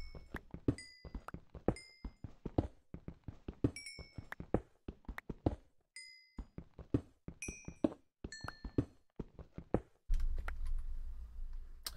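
Computer keyboard typing during Minecraft play, bursts of sharp, close clicky keystrokes with short pauses and game chimes, ending in a louder rumbling stretch.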